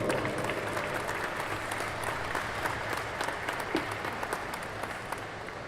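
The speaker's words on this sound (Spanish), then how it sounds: "Fuerte el aplauso, por favor." Applause from a conference audience at an electrical expo in León, steady dense clapping at moderate level filling the whole stretch, with a faint murmur of the crowd underneath.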